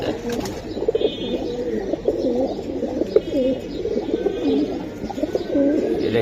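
Pigeons, including giribaz and silver breeds, coo in repeated throaty bursts, close and fairly loud, with overlapping calls and faint background rustling.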